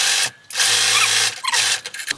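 A sewing machine runs loud and close, sewing elastic onto stretch fabric baby leggings in two fast bursts separated by a short break.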